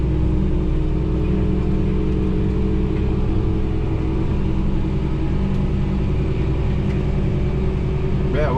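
Steady, loud engine drone and low rumble of a Fendt 1050 tractor working through cornstalk tillage in the evening, heard from the cab as a continuous smooth hum with no talk.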